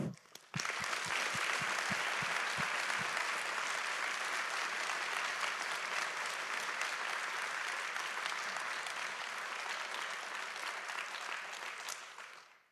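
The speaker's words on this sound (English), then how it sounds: "I want to hear a huge round of applause for all our partners" An audience at a boat reveal event for a student hydrogen boat team applauds its partners, a dense, steady round of clapping that opens with a few distinct claps and holds loud and even for about twelve seconds before cutting off.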